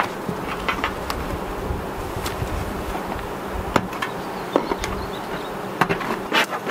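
Honey bees buzz around an open hive in a steady drone, with scattered sharp clicks and knocks of equipment close by, likely hive parts being handled.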